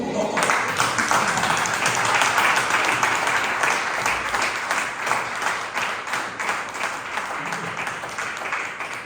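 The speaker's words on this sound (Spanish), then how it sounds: "Se llama Félix, un fuerte aplauso." Applause fills a church gathering, a dense wash of many hands clapping steadily to welcome a newcomer, holding strong for several seconds before tapering slightly.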